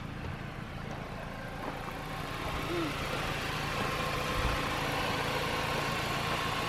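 Engine of a salvage-auction car from IAAI idling steadily, a low continuous rumble with faint mechanical vibration, fairly quiet and close, with no talking over it.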